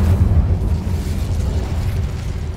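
The Incendio fire spell bursts in the Hogwarts Legacy video game with a loud, deep explosive roar that sustains and rumbles throughout, heard alone.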